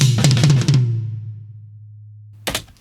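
Drum toms from a metal drumming session, processed with dynamic EQ that adds highs on each attack: a rapid run of tom hits ringing into a long low decay, then one sharp bright hit at the end, loud and alone.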